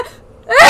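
A single close, loud sneeze bursts out suddenly near the end after a quiet lead-in, heard over a Deep Rock Galactic game session.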